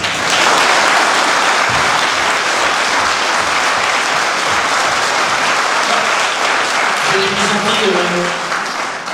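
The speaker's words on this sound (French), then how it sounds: "je pense qu'on peut l'applaudir" Sustained applause from a large audience after a musical comedy show, steady and loud for the whole stretch, with a few voices faintly audible near the end.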